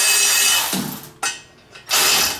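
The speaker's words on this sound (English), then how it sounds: "What I gotta do is get a ratchet wrench" Loud, close ratchet wrench clicking in a few quick bursts with short pauses between them, working on turbo manifold bolts in a cramped engine bay.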